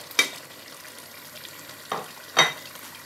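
Fish goes into a pan of Nigerian tomato stew with a few sharp sizzling bursts spaced over a couple of seconds, heard close and alone against a quiet hiss.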